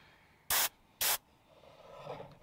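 Airbrush fed by a small contractor compressor sprays paint onto a model train flat car in two short, loud hissing bursts, followed by a quieter, uneven hiss.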